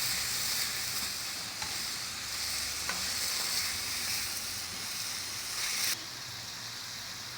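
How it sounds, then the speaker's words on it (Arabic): Chicken breast sizzles in a hot pan while being stirred, a steady loud frying hiss running throughout with faint scraping, dropping slightly in level near the end. "بعد ما شحرت هذا الصدر ديال الدجاج"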